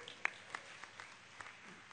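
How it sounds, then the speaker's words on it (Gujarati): Audience applause for the Swami's address at a Guru Purnima festival gathering, heard as a brief, faint patter of scattered hand claps from a distance. "પૂજ્ય સ્વામીના ઉદ્બોધનને તાળીઓના નાદથી વધાવી લઈએ"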